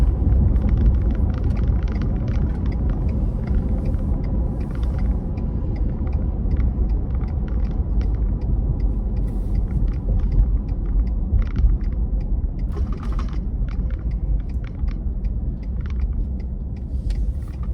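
A 2020 Ford F150 with a 3.5L EcoBoost engine accelerates while towing a heavy load, giving a steady deep rumble and road drone from inside the cab, continuous and fairly loud with no talk.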